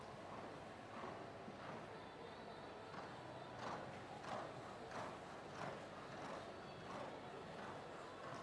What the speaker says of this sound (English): So this is another very impressive Jazz type of horse.